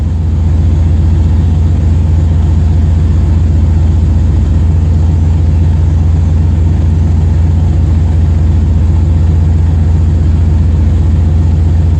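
Steady engine idle at about 900 RPM on its first start after prep and a Sniper fuel-injection install, a constant low rumble holding even and unbroken throughout with no voices.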